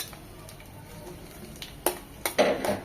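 Chopped onion and garlic fry in oil in a pan, giving a soft, steady sizzle broken by a few sharp clinks and scrapes of stirring toward the end.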